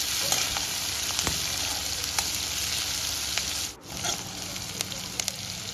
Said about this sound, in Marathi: एक कट केलेला कांदा घालायचा आहे आणि सर्व मिश्रण व्यवस्थित मिक्स करून आता कांदा लालसर होऊपर्यंत आपल्याला भाजायचा आहे